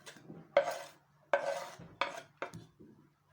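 Chopped onions being scraped and tipped onto a plate in a kitchen, with four or five distinct clattering knocks of a utensil on the dish, each with a short scraping tail, close and fairly quiet, with no talking.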